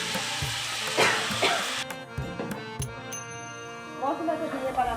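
A spiced paste of cumin, coriander, ginger, dried and green chillies and pepper sizzles in a pan while it is stirred, a soft crackle with scraping strokes that fades into quieter sizzling.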